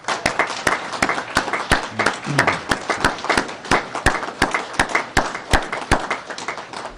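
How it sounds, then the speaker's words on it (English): Applause at a Massachusetts school for the state's School Nurse Administrator of the Year, heard as a small group clapping nearby in sharp, distinct, fairly regular claps rather than a dense roar. "I think that deserves a round of applause."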